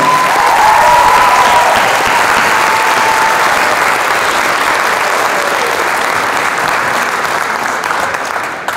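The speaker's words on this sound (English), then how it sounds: "Round of applause." A school theatre audience at a high school theatre awards ceremony claps loudly and steadily, a dense wash of applause sustained for several seconds and tapering only slightly toward the end.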